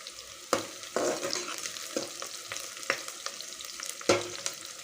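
Curry leaf sprigs crackle and sizzle in hot oil for a beans gravy curry, a steady close fry punctuated by sharp spoon-stirring clicks at irregular intervals.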